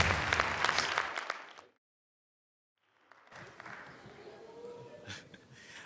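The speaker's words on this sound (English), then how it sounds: "I want to first give everyone a round of applause because you're all are winners." An audience at a Kansas City Chiefs youth awards show claps loudly, the applause fading into a moment of silence before quieter crowd noise and clapping resume.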